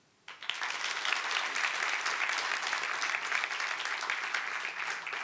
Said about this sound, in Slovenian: mislim, da je bil ta aplavz dovolj dober znak